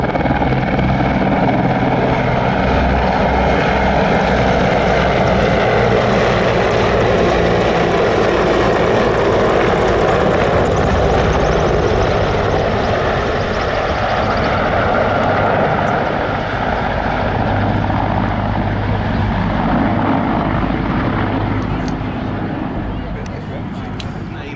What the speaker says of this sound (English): The MIL Mi-35 leads the MIL Mi-171 SH.